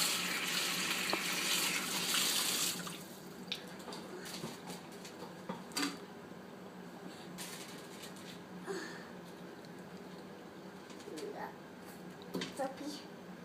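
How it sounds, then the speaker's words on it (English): Tap water runs into a sink during handwashing, a steady loud rush for the first few seconds that then drops to quieter splashing and clinks, with people talking over it. "Wash my hands."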